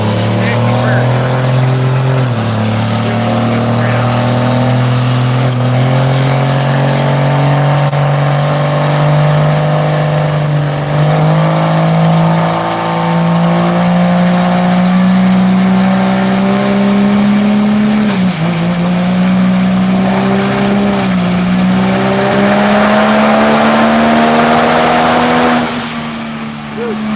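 Cummins diesel truck fitted with a 16mm injection pump roars on a dyno, a loud sustained engine drone climbing steadily in pitch under load for nearly half a minute, with people talking over it.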